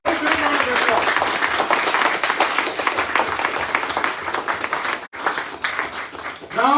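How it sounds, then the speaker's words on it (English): Sustained audience applause at an evening launch event in Mumbai, dense crowd clapping throughout with a brief dip near the end before swelling again. "can we all give a wonderful applause for this great evening that we have gathered here?"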